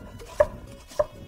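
A knife cuts cucumber on a board for acar, two crisp, evenly spaced slices about half a second apart, close and fairly quiet with no talk.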